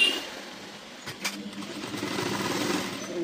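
A sewing machine stitches a size 38 blouse up close in a short, quiet buzzing run that starts after a pause and carries on to the end, with no talking.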